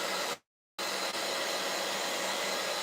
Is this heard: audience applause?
no